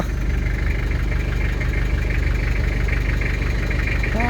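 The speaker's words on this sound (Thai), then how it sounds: "เดี๋ยวติดเครื่องดูนะครับ" A Toyota Mighty-X pickup with a 2500 engine idles steadily up close, a continuous low rumble with a faint mechanical buzz and no pauses, with no starting crank heard.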